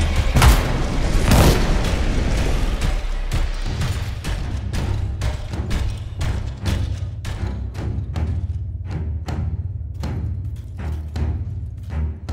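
Grenade launcher explosions in the video game Anthem, a run of heavy booms and thuds at an uneven pace that thin into sparser, sharper hits, loud and with no voices.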